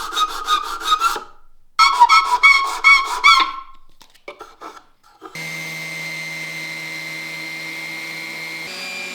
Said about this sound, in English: I also have to do some manual sanding, especially on the edges of the legs.